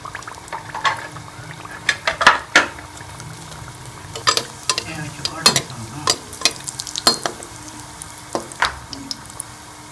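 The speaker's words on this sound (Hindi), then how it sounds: "अब हम इसमें अपनी कचौरी जो है उसको फ्राई कर लेंगे इस तरह।" Chicken kachori frying in hot oil over medium heat, a close, lively crackling sizzle with sharp bubbling pops and spatters throughout, no voices.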